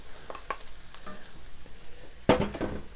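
Canned beans being stirred into browned meat in a pan with the heat off, for a baked nacho dip: scattered soft scraping and stirring strokes, ending in a louder, busier burst of mixing.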